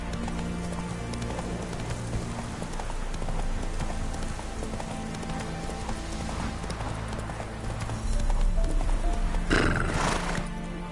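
Horse hooves clip-clopping at a gallop in The Witcher 3 on PS4, with a whinny and steady game music and ambience throughout; the hoofbeats grow louder and busier near the end.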